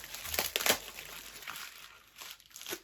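Crinkly crumpling and tearing sounds of tape being handled up close, in several short bursts with quieter rustling between them.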